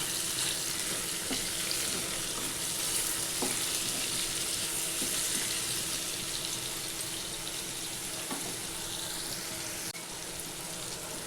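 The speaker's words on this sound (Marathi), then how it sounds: "अजून याला 4-5 मिनटं चांगलं फ्राय करून घ्यायचं." Bitter gourd frying in a pan with salt, giving a soft, steady sizzle that hisses continuously and stays fairly quiet throughout.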